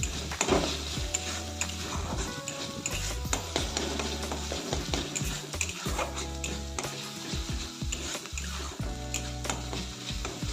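Black cumin seeds frying in a pan for a fish curry, stirred with a spatula, giving a continuous sizzle broken up by frequent scraping and clattering strokes.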